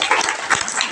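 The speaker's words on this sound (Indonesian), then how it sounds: "Tepuk tangan untuk panjenengan semua." Audience clapping at an Islamic religious gathering, a brief, dense burst of applause from a crowd heard close and steady for about a second.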